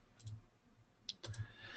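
A few quiet clicks of typing on a computer keyboard, in short sparse bursts over a low background hum, faint and close.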